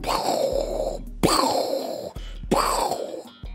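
Three deep, resonant vocal booms, each a sudden low hit that swells and fades, spaced about a second apart, mimicking a dramatic bass drop effect.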